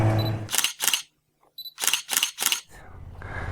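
Camera shutter clicks on an island motorcycle trip in Sardinia, a couple of sharp snaps followed by a quick run of three, close and crisp with outdoor background noise between them.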